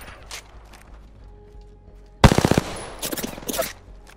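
Video game gunfire: after quiet low rumble, a sudden loud burst of rapid automatic shots, then several shorter bursts close together.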